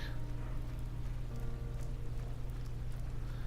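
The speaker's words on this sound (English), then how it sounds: "see, it's raining" Steady rain falls in the video game Blue Reflection, a soft, even patter with a low hum underneath. It stays faint and constant, with no voices.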